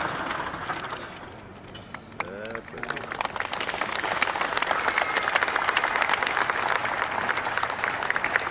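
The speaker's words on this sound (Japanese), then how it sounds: "もう一度ジョン・マローニさんに拍手をお願いいたします。" Audience applause breaks out in a hall after a talk by a former Zero fighter pilot, swelling into sustained, dense clapping that continues steadily, with a voice speaking briefly beforehand.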